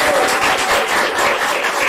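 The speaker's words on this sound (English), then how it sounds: "A round of applause for all the contestants once more." An audience gives contestants a round of applause: loud, close, continuous clapping from a sizable crowd, dense and even throughout the short burst with no speech.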